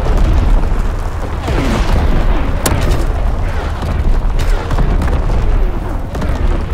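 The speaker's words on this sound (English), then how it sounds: "Firing battery one" Artillery battery firing in Call of Duty WW2 on Xbox One: continuous loud booming barrage with rolling explosions and sharp cracks, dense and relentless throughout.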